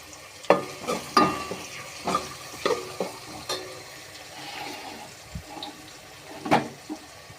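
Cumin and mustard seeds splutter in hot oil for a garlic curry, with irregular sharp pops and crackles over a soft frying hiss, close by and without speech.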